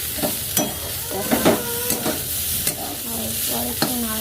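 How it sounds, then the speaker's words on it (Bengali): A spatula stirs food frying in a pan, with several distinct scraping strokes over a continuous close sizzle, loud and without talk. "একটু নাড়াচাড়া করি"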